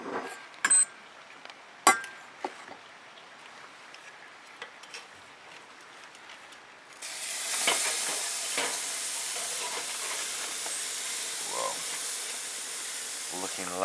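Butterflied lamb shoulder set down to cook: a few quiet knocks and clicks, then a sudden loud, steady sizzling hiss that begins midway and carries on to the end.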